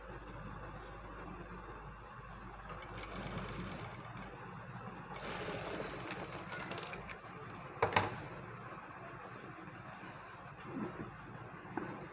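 A sewing machine stitching small cloth for a newborn baby, a faint continuous mechanical whir with light clatter, steady and fairly quiet throughout, with a few sharper clicks near the middle.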